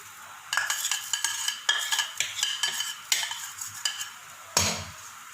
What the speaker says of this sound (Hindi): इसमें जो मैंने सब्ज़ मिर्च कटी हुई और ज़ीरा लिया था साबुत,